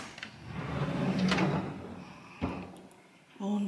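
In a kitchen, drawers slide and shut. One shut lands sharp and loud near the middle, with shuffling and a soft voice in the background.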